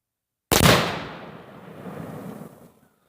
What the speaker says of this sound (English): Oh my god, I watched that explode in my freaking scope.